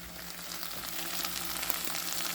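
Onions sizzle and fry steadily in a hot pan, a close, continuous crackling hiss with no talk over it.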